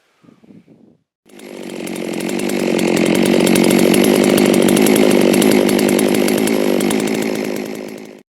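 A Holzfforma G660 chainsaw fitted with a borrowed bar and chain bucks firewood, starting with a short idle burble, then revving into one loud, sustained cut of about seven seconds before the engine drops off.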